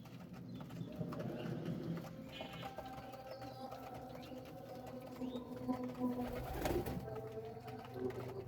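Soft coos from Bangladeshi native (deshi) pigeons at a breeding farm repeat among fluttering and shuffling, with a brief louder burst near the end; no voices.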